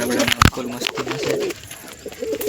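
Pigeons coo in soft, low repeated calls close by, mixed with a sharp flutter or knock early on and some background noise, the cooing continuing through the short stretch.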